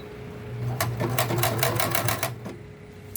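A Bernina Deco650 embroidery machine chatters while stitching, its needle striking in a fast run of sharp, evenly spaced clacks over a steady motor hum, close and loud, with one last stroke after a short pause. The thread is caught in the tension.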